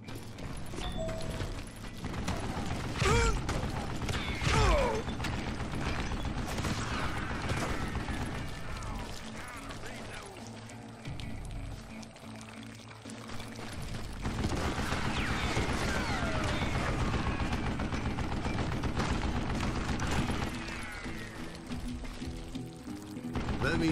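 Gunfire from the Western shooter game Call of Juarez Gunslinger comes in scattered sharp shots over a busy game soundscape with hoofbeats and movement, loud and close, with some talk in places.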